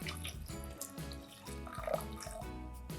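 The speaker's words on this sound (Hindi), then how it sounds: "तो अब इसके अंदर मैं ऐड कर दूंगा पानी" Water poured into a pot of raw mango dal, a soft splashing trickle heard faintly beneath background music.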